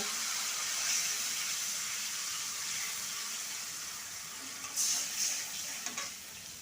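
Water hits a hot pan of spiced chili-powder eggplant chutney base, giving a steady hiss and sizzle that flares into a sharper burst of spitting steam and stirring partway through.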